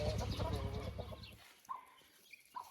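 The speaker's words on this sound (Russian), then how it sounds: "Это квочка с цыплятами." A broody hen clucks with her chicks in a dense, low run of throaty clucks, followed by a few faint high chick peeps nearby.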